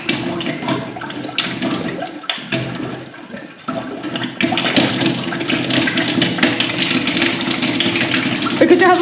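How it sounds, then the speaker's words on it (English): A newly installed well water pump, left unused for six months, sputters and gushes water in an uneven, rushing flow that grows louder and steadier partway through. "Because it hasn't been used in 6 months, it is just a bit spluttery and gunky and stuff."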